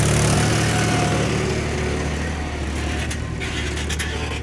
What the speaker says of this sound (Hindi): ये देखिए पीछे में एक ट्रैक्टर आ रही है